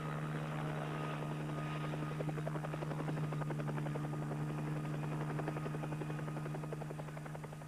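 A naval helicopter flies overhead carrying supplies to firefighters on the Sierra Negra volcano slopes in the Galapagos, a steady loud rotor thrum and whine held throughout before easing slightly at the end.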